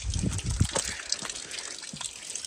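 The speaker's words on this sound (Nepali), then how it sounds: "यहाँ टुटी पनि छैन पानी बगिरहन्छ" Water running steadily from an outlet with no tap, a soft continuous gush with a few low splashy bursts early on, fairly close and not loud.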